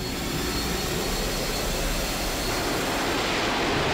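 Batwing jet plane from Batman: Arkham Asylum roaring in overhead, a loud, steady broadband engine rush with a faint high whine, continuous and unbroken with no voices.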